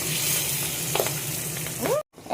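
Large oiled pabda fish sizzle hard in hot oil, a dense continuous crackle up close with a few sharp pops before it cuts off abruptly.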